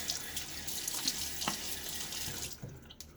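A bathroom tap runs steadily into a sink while hands splash water onto a face before a shave, with brief splashes and drips over the constant stream, close by.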